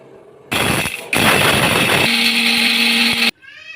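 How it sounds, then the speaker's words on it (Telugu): Mixer grinder whirring loudly as it grinds roasted spices with cumin and garlic into chilli powder, running in a couple of bursts with a brief stop, then a steadier tone before cutting off abruptly. "ఇవన్నీ చల్లారాక మిక్సీ పట్టుకోవాలి"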